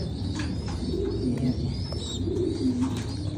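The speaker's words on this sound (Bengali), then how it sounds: "আমার ভালো লাগে কিছু কবুতর আপনাদের সঙ্গে শেয়ার করতে ভালো লাগে" Soft, low pigeon cooing repeats in a steady rhythm, close by, over a constant background hum with faint chirps.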